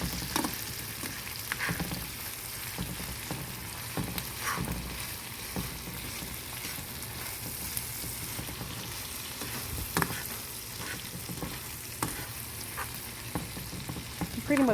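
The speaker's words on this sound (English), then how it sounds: "So I'm just basically stirring all of my ingredients together." Creamed corn sizzles and fries steadily in a pan while a spoon stirs it, giving a continuous crackling hiss with occasional scraping clicks, close and moderately loud throughout.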